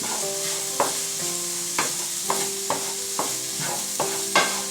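Garlic frying in a pan with oil, a continuous sizzle broken by a spoon scraping and stirring at regular intervals, close and clear, with no talking.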